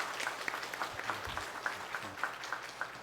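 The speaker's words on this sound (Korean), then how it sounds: "우리 박수하겠습니다." A church congregation gives welcoming applause to visiting guests, a faint, distant patter of clapping held at an even level throughout with no talk.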